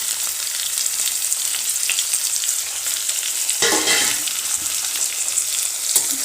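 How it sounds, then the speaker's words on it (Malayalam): Chopped tomatoes frying with ginger and garlic in a pan, a bright steady sizzle with a sudden louder hiss and spatter partway through, plus stirring scrapes. "അപ്പോൾ നമ്മളതിലേക്ക് അരിഞ്ഞ് വെച്ചിട്ടുള്ള തക്കാളിയും കൂടെ ഇട്ട് കൊടുക്കുകയാണ്."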